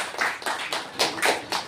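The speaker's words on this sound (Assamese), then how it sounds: "জোৰকে আমি তালি বজাই ঈশ্বৰক ধন্যবাদ কৰিম" A church congregation claps in unison to thank God, a brisk run of about eight sharp, evenly spaced claps, loud and close, with no talking.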